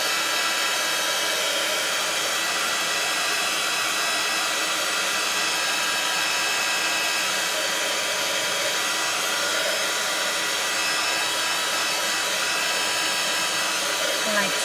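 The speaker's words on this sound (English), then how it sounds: "I'm just gonna reach in and grab my heat tool. So let's dry this off." A crafting heat tool blows hot air to dry damp ink on a card, a loud steady whirring hiss held unbroken throughout, with no talk.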